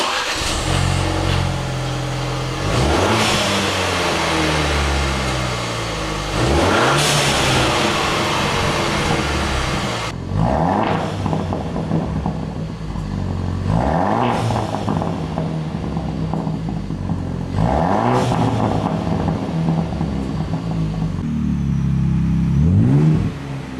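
A Ford Bronco engine revving repeatedly through a loud exhaust, rising sweeps of throttle blips over a steady rumbling idle, close and continuous.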